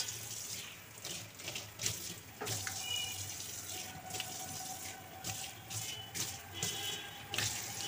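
Water runs from a home water filter into a bowl in a kitchen, a soft, steady trickle with a faint rising tone as the bowl fills, plus a few light knocks.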